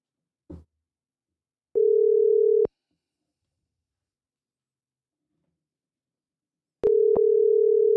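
A telephone line gives two steady tone bursts while calling in, each about a second long and separated by several seconds of silence, with a faint click before the first.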